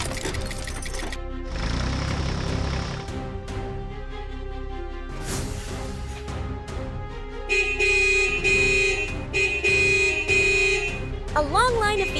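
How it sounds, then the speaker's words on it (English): A long line of cartoon vehicles stuck in a traffic jam at a construction site honk impatiently, with overlapping horn blasts and buzzy toots over engine rumble and busy animated sound effects. "A long line of vehicles honks impatiently."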